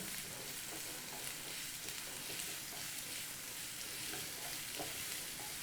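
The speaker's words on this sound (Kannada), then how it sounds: "ಹಸಿ ವಾಸನೆ ಹೋಗೋ ತನಕ ಇದು ಫ್ರೈ ಮಾಡ್ಕೋಬೇಕು" Onions frying in a pan until browned, a steady broadband sizzle with faint stirring scrapes running continuously throughout, no voices.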